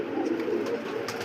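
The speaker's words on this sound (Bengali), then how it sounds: "একটা ডিম দিতে কত না কষ্ট হয় একটা কবুতরের" A fancy Archangel pigeon coos softly in a pigeon loft, a low, murmuring throaty call repeating closely through the short moment.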